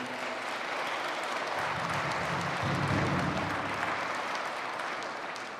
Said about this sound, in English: So let's give our elders a nice big round of applause at this time for that.